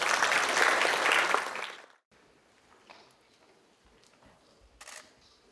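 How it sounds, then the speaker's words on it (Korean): Audience applause at a forum with the mayor of Daegu and young people at Kyungpook National University, a dense burst of clapping for about two seconds that stops abruptly, leaving quiet room noise and faint scattered sounds. "큰 박수 부탁드립니다"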